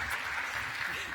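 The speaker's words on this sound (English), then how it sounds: "I think she deserves a special applause" An audience at the EuroDIG 2019 conference wrap-up gives applause, a steady wash of many hands clapping at moderate volume, continuous and fairly distant, with talk mixed in.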